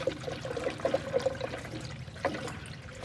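Coolant pours through a funnel into the radiator of a 1965 Mustang coupe, a soft, steady trickle and gurgle with a few brief bubbling glugs, fairly quiet and close.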